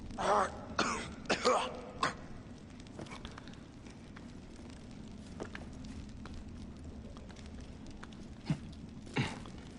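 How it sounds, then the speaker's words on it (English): A person coughs and clears their throat in several rough bursts near the start, then more isolated coughs later, heard close over a quiet background hum. "I'm coughing like crazy right now."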